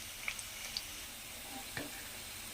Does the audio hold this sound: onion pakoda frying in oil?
yes